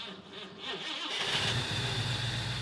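A Chevrolet Camaro with a completely dead battery, boosted by a NOCO GB40 lithium jump starter, cranks and catches, then settles into a steady, loud engine idle after a brief quiet start.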